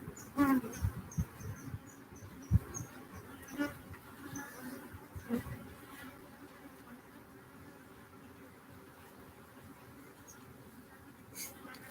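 Bees buzzing around a beekeeper at an open hive, a faint continuous hum with brief louder passes close by in the first few seconds, no talking.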